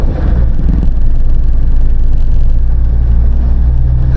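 A car engine drones loud and close as it labours up a steep hill in second gear, with a heavy, steady low rumble and no talk.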